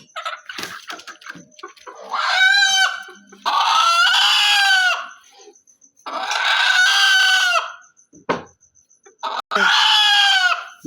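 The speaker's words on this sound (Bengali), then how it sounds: "মোরগ যে দেশি মোরগ যে" Native deshi Khasia roosters crow loudly in several long, clear calls, with hens clucking between them at a poultry market; no talk is heard.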